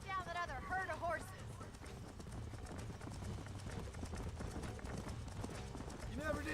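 Horse hooves clip-clop in Red Dead Redemption on PS3 while horses are broken in and rounded up, a steady galloping rhythm under continuous game music and voices.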